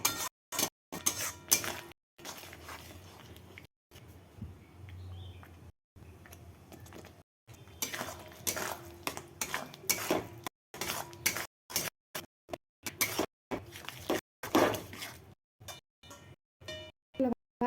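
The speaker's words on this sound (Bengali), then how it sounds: "মশলাটা কষে যাক, তেল ছেড়ে আসুক, তারপরে দেবো মাছগুলো।" A spoon scrapes and clinks against a pan while spice paste for a Bombay duck (lote fish) kalia is stirred and fried. The bursts of stirring are close and intermittent, broken by brief silent gaps.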